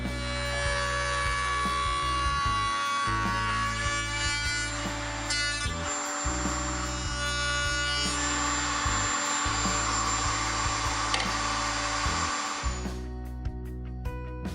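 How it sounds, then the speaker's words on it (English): A wood router on a router table cuts dovetail slots with a sled, giving a steady high motor whine with strain and cutting noise rising as the bit works. It stops briefly a few times, then cuts off near the end. "make sure that the router sits lower than that once I've placed this sled on the table"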